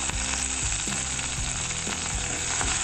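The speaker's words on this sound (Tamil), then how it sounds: "நான் கொஞ்சமாக கருவேப்பிலை போட்டுக்கிறேன்" Curry leaves frying in hot oil for sambar rice, a loud continuous crackling sizzle with sharp spitting pops scattered throughout.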